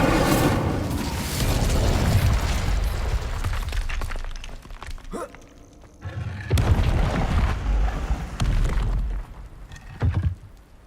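Incendio fire spell in Hogwarts Legacy, a loud whooshing, booming blast with crackling debris, then quieter shatters and a second burst near the end.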